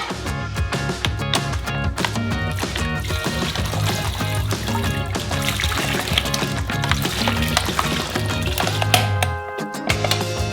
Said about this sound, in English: We will also pour out a whole bottle of lemon juice.